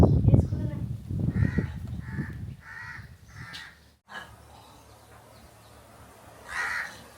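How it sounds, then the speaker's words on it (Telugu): Several harsh caws from a crow fighting with a monkey, repeated in a steady series at mid distance, with a louder call near the end, following rumbling noise and faint voices outdoors. "కోతి ఉన్ను కాకి కొట్లాడుతున్నాయి ఇవ్వండి అక్కడ."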